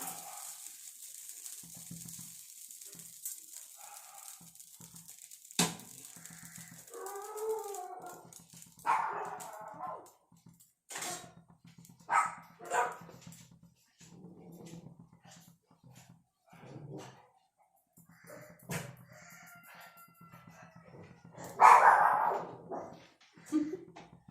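A dog barks and howls in short, irregular bursts at moderate distance during a quiet domestic morning, with whimpers and yips between louder outbursts and faint background hum.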